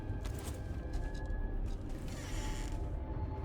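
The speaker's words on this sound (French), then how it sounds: "Allez, ouvrons la première porte à gauche." A heavy crypt door in the video game Valheim creaks slowly open, a quiet, drawn-out grinding creak with faint mechanical rattles and no voices.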